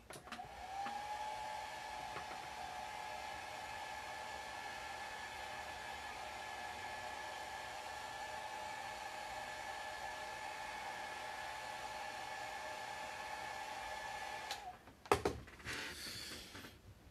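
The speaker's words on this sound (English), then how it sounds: "So I'm going to hit this with the hairdryer." A hair dryer blows steadily on a painted tabletop miniature, a constant close whirring hum lasting about fifteen seconds before it switches off, followed by a few clunks of handling.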